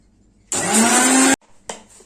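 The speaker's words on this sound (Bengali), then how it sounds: "ডিম দুটো আগে একটু ফেটিয়ে নিই ব্লেন্ডারে।" An electric blender whips two raw eggs for cake batter in one loud, steady whirring burst of about a second, then a short second pulse after a brief pause.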